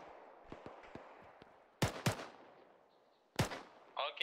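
Gunfire from the video game Arma: faint distant shots pop at first, then several sharp, loud close cracks ring out singly, with a brief tonal sound near the end.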